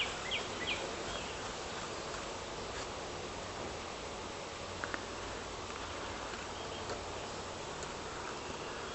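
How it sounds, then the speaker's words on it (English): Agitated honeybees shaken out of a beehive make a steady, dense buzzing drone at moderate level that holds for the whole stretch, with no voices. "I'm going to shake these bees out of here"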